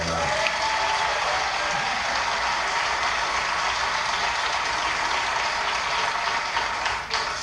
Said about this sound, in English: She deserves the applause.